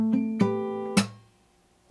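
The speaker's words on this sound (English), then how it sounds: "4th string, and then 2nd and 3rd strings together with a smack" Acoustic guitar picking a sparse fingerstyle pattern: a low 5th-string note, a 4th-string note, then 2nd and 3rd strings struck together with a percussive smack, three clear attacks ringing and fading, played alone close up.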